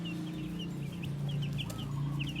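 Purebred laying hens clucking at a farm, a string of short close clucks and chirps over a steady low background hum.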